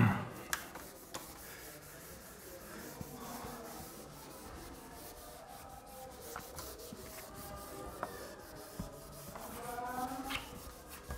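Writing on a board is rubbed out by hand in a maths lesson, a soft, close scrubbing and swishing that continues in uneven strokes, with occasional light taps and no speech.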